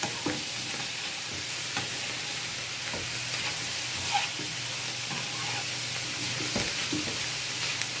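Onion sizzles and fries steadily in a pan, a continuous soft crackling hiss with occasional stirring scrapes, close and moderately quiet with no talk.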